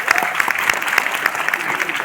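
An audience at a success celebration in Noida claps steadily, a dense patter of many hands with sharper individual claps standing out, close and sustained throughout.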